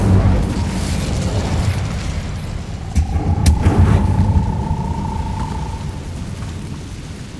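An Incendio fire spell blast in Hogwarts Legacy on PS5, a deep rumbling whoosh with a sharp burst midway and a thin ringing tone trailing off, loud and sustained over a low background roar.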